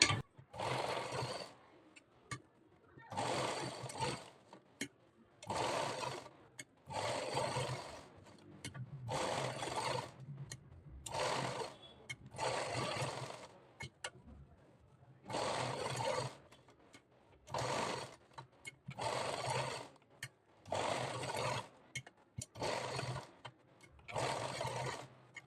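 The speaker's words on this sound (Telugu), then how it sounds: "కుట్టు నెంబర్ మాత్రం తగ్గించుకొనే కుట్టుకోవాలి" Sewing machine stitching the front part of a blouse in repeated bursts of fast mechanical whirring, each lasting about a second or two and separated by short pauses, close and clear.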